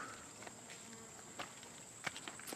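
Bees working around a backyard hive near a chicken coop, a faint steady insect buzz with scattered individual bees passing close by in soft ticks and swells.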